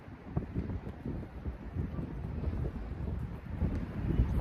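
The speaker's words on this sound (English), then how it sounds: "This wind got me concerned, y'all." Wind gusting outdoors against a microphone during a calisthenics workout, a steady low rumbling buffet that swells and eases without pause, with no talking.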